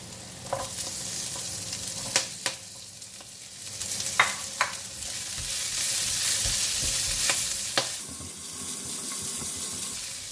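Vegetable stems stir-fried in a wok for salted fish fried rice: continuous sizzling with repeated sharp scrapes and clatters of the spatula against the wok, close and busy, no voices.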